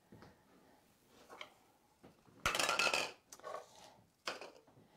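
An 8-inch chef's knife slices the end off an onion on a cutting board, giving a few light taps and one louder crisp chop with a brief scrape, close and clear with no talk.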